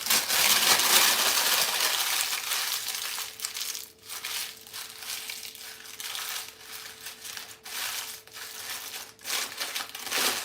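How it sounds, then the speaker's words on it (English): A sheet of material is crumpled up by hand for a springform cheesecake pan, giving loud, crackling crinkles in irregular bursts with short quiet gaps between squeezes. "Crumple it up."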